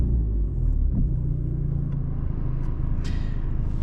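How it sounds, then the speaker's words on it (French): Alpine A110 Stage 2 four-cylinder engine idling with a deep, steady exhaust rumble on a stock exhaust and silencer, close and loud throughout, with a brief blip partway through and a faint click near the end. "Je pense que c'est un 4 cylindres qui fait un très beau bruit"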